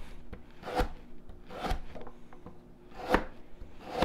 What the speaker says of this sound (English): I'm going to cut it in about quarter inch slices.